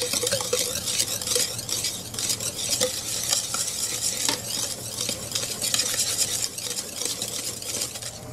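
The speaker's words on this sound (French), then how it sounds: "je rajoute donc la maïzena, ici 40 g de maïzena, et je mélange" A whisk or spoon stirring cornstarch into a vanilla mixture for profiteroles, a continuous close scraping and swishing in a bowl with light clinks, steady throughout and without talk.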